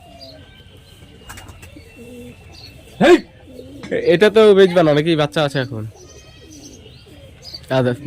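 Local desi pigeons in Daulatabad, Murshidabad coo and chirp in short bursts while people talk back and forth close by; a louder cluster of calls rises midway.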